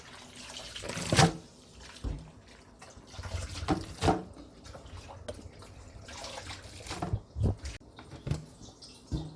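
Kimchi cabbage being rinsed in clean water, with splashes, sloshing and dripping in irregular bursts, close and moderately loud, alone without talk.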